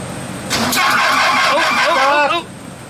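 Air-cooled VW Thing engine cranking over on the starter, a steady mid-loud grinding whir lasting about two seconds with voices talking over it, then stopping abruptly without catching.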